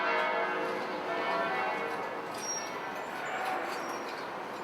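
Church bells, freshly cast for a newly completed church with steeples, ring out over Montreal in a steady, continuous wash of tolling and overtones, loud and resonant throughout.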